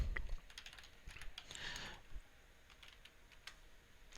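Short bursts of keystrokes on a computer keyboard while searching a shopping site, quick irregular taps fairly close and fairly quiet, no voices.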